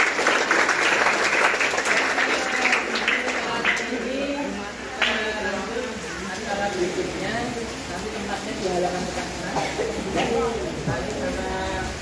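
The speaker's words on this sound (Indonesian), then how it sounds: "Kita beri aplaus untuk semuanya." A crowd claps together at a school character-building celebration for students of SMP Negeri 3 Gamping in 2024, a dense, fairly loud patter of applause with a voice speaking over it.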